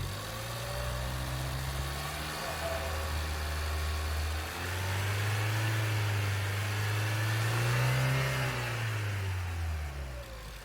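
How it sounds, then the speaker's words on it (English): A 2014 Ford Fiesta ST engine runs after an oil and filter change, a steady low hum close by that swells briefly as if lightly revved, with no voices. "I'm leaving it to idle for another 30 seconds, then check the level again."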